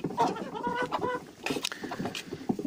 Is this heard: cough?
no